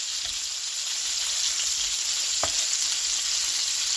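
Ground chicken burgers fry in a pan with a steady, dense sizzle and crackle, close and even throughout, with a brief louder pop near the middle and no talking.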